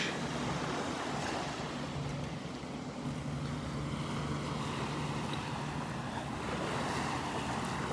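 Ocean surf washes onto the beach at Delnor-Wiggins during a morning walk, a steady broad rush of waves mixed with wind buffeting the microphone, continuous and fairly loud throughout.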